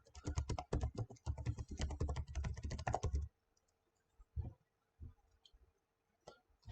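Rapid typing on a computer keyboard during a software install on a CentOS server: a dense burst of clicking keystrokes for about three seconds, then a few scattered isolated key presses amid near silence.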